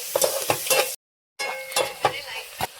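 Thinly sliced onions, about a kilo, mixed with turmeric and salt, stir and sizzle in a hot pan, with scraping stirring strokes in bursts and a short pause midway.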